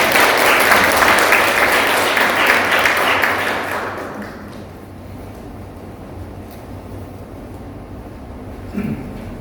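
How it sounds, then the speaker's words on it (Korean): A church congregation claps together during a Sunday worship service, loud and dense for about four seconds before fading to quiet room noise. "우리 축복의 박수를 드리겠습니다."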